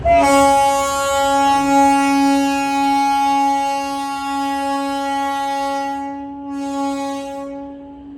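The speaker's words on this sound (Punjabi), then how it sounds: "ਫਾਈਨਲੀ ਹੁਣ ਜਾ ਕੇ ਟ੍ਰੇਨ ਪਹੁੰਚੀ ਹੈ" A long, loud electric train horn blares with a steady tone and rich harmonics as the train arrives at a station in Kashmir, holding for several seconds before cutting off, then sounding briefly again.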